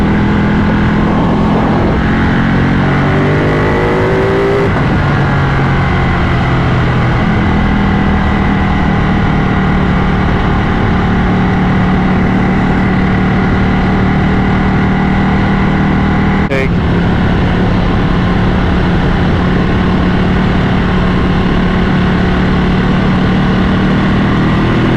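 A Ducati motorcycle engine drones loud and close while riding on the road, a steady rumble with gear changes and a short rise in pitch, plus strong wind noise.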